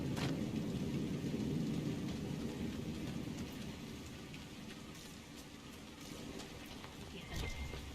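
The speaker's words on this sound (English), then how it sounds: "So much rain." Steady, heavy rainfall in Dragon Age: Inquisition hisses continuously, with low rumbling beneath like distant thunder and a few sharper splashes near the end.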